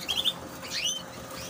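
A few brief, high chirps from small birds, faint against a soft background hiss.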